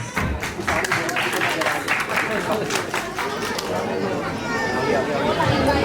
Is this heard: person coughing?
no